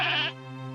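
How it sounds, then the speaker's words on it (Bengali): A young goat kid with a freshly broken leg lets out one short, sharp bleat that trails into a fainter tone, close and brief. "রাজ্জাক জোরে ছাগলের দড়িটা টেনে ধরতেই ছাগলটার পা ভেঙে যায়"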